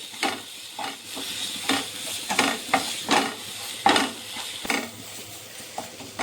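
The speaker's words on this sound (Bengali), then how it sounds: "এখন আমি এগুলোকে আবারও একটু ভালো করে কষিয়ে নেব।" Masala for a Bengali pomfret fish curry being sautéed in a pan: continuous close sizzling with repeated scraping strokes of a spatula against the pan, no talking.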